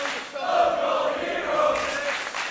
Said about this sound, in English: The crowd appreciates it.